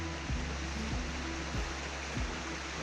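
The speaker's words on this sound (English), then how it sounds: "The creek is quite high." Steady broadband rush of a high creek flowing, heard close and continuous with faint low thumps underneath and no voices.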